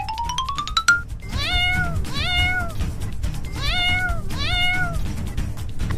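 A kitten meows repeatedly, loud and close, in short rising-falling cries grouped in pairs, after an opening run of quick ascending chime-like tones over a steady low background rumble.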